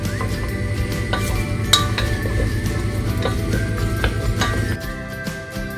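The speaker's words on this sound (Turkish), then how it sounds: "Bunları beraberce bir güzel soteleyeceğiz." Spring onions and ginger are sautéed in a pan, with a soft sizzle under steady stirring and the clink of a utensil against metal. The sound stays even and near, then eases off toward the end. No one speaks.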